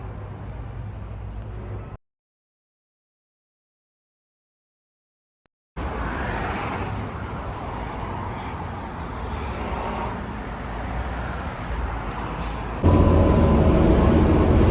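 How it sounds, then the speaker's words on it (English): Interior of a city bus riding toward West Hollywood, California: a steady broadband rumble of engine and road noise fills most of the stretch, broken by a silent gap near the start and growing louder toward the end, with no talking. "I'm on the bus currently to West Hollywood."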